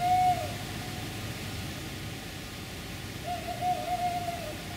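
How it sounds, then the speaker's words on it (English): Two drawn-out owl hoots sound at a distance, one early and one near the end, over a steady hiss of night ambience. "An owl there."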